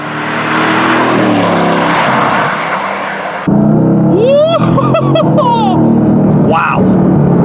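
Mercedes-AMG GT S accelerating hard, a loud continuous engine roar that shifts abruptly partway through into a tonal whine with rising and falling sweeps, sustained and close throughout.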